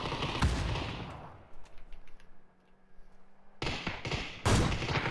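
Rapid bursts of video game gunfire crackle loudly at the start and again near the end, separated by a quieter stretch of scattered shots and a low hum, with no speech.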